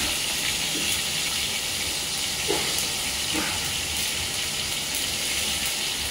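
Curry leaves sizzling in hot oil for a sambar tempering, a loud continuous hissing crackle throughout with a few faint spatters, no voices.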